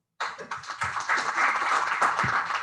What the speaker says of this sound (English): a huge round of applause for outgoing and incoming teams.